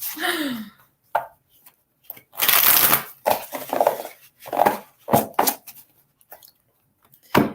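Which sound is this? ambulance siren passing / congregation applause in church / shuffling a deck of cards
shuffling a deck of cards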